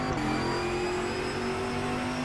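A race car engine in the RaceRoom sim at Road America holds a steady, fairly loud drone as the driver eases back onto the throttle, with no voices over it.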